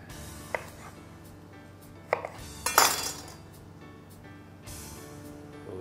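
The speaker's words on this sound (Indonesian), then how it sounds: "Sekarang kita potong lagi, ini buat garnishnya ya." A knife chops on a board while garnish is cut for a watermelon and basil seed drink, several distinct close cuts landing at irregular intervals with light clatter between them.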